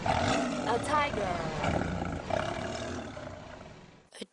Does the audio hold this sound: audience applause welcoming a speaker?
no